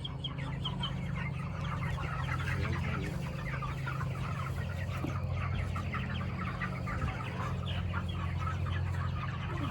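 Young chickens cluck steadily and close by, a busy continuous flock chatter after being moved out of a brooder onto pasture, with occasional bird calls mixed in.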